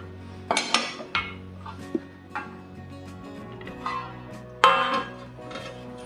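Roasted grated dry coconut for a Ganesh festival prasad is scraped out of a pan onto a plate, with several close metallic clanks and scrapes of utensil on cookware and quieter rattles between.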